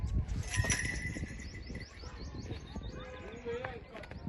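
Pigeons coo and chirp over a busy outdoor background, with soft fluttering as a female pigeon arrives and a voice speaking faintly nearby.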